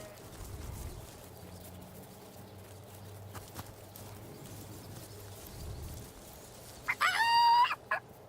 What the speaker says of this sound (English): Someone ought to tell him his waddle waggles when he crows, same as the rest.